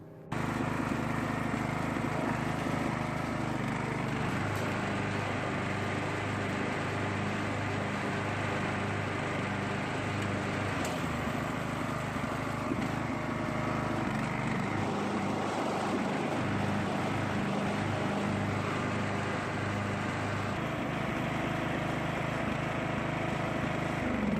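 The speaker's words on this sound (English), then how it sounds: "let's turn on the mower and try engaging the blades" Riding lawn mower engine running steadily with the cutting blades engaged after a repair, a loud continuous drone holding close and even for the whole stretch, no talking.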